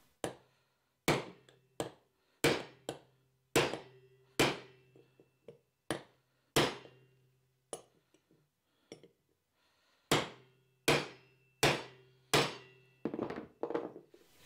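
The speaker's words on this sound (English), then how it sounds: "Now I'm going to put it down in the block and hit it with a chisel and see if it'll bend down into that shape." Sharp metallic hammer blows strike a chisel, bending copper sheet down into a block, about twenty distinct ringing hits in irregular bursts with short decays and brief pauses between groups, close and alone.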